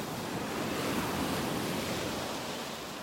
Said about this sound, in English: There are some currents here in these waves.